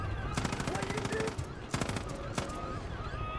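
Machine gun fire in the Far Cry 5 video game: rapid, rattling automatic bursts with sharp cracks, one long burst, then two shorter ones, over game background sound.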